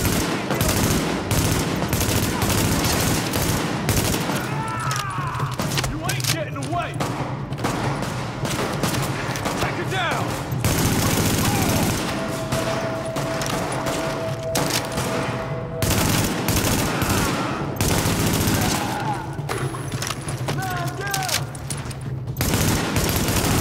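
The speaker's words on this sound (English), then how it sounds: "Escort party's taking heavy fire from the roof." Heavy sustained gunfire in The Division, with rapid bursts and scattered shots crackling continuously from start to finish in a loud, dense firefight.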